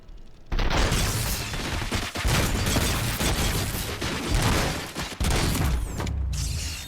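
Sustained gunfire in RoboCop: Rogue City, with dense, loud automatic bursts broken by brief pauses and mechanical clatter throughout.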